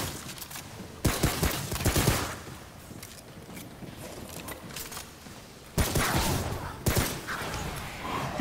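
Enemy gunfire in the video game Remnant: From the Ashes, sounding as loud bursts of repeated shots near the start and again near the end, with quieter game ambience between them.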